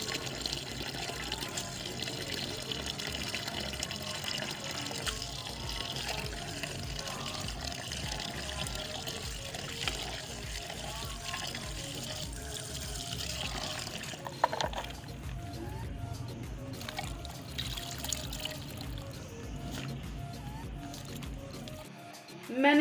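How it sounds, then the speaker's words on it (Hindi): Water runs steadily throughout while saag greens are washed in a home kitchen, a continuous splashing wash that fades slightly near the end, with no talk over it. "साग को धो लेंगे।"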